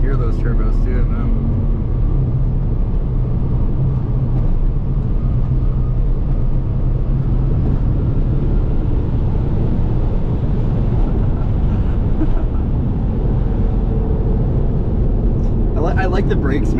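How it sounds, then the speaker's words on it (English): An Audi RS6 with twin turbos pulling hard under acceleration, a loud, continuous low engine roar and road rumble filling the cabin, with someone talking over it near the end. "Hear those turbos too, man."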